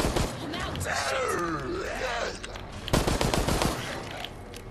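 Gunfire in the co-op survival horror game Resident Evil: Resistance, bursts of shots under a steady game soundtrack, with a player's voice talking over the action and a dense cluster of shots near the end.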